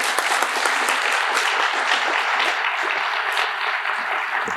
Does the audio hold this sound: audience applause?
yes